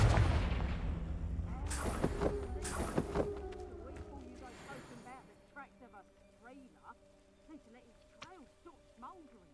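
Confringo blasting spell in Hogwarts Legacy: a heavy fiery explosion with a booming low rumble, followed by a second blast and crackling debris, then quieter game sounds with brief voices.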